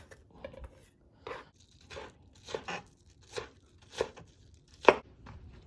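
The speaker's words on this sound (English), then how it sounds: "Make sure they're pretty finely diced up." A knife finely dicing ingredients for cockle ceviche on a cutting board, about eight separate crisp chopping knocks spaced roughly every half second to second, close and clear in a quiet room.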